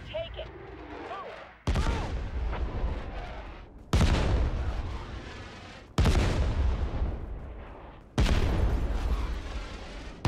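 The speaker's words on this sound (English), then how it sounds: "This area is under mortar fire." Mortar fire in the war shooter Caliber: four heavy, loud explosions land about two seconds apart, each a sharp blast trailing into a rumbling decay, with steady background battle noise.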